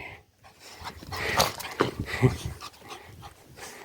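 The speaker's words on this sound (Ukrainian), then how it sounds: "бігають собаки" A dog pants and whimpers in short bursts, with a few brief yips and rustling, fairly close and moderately loud.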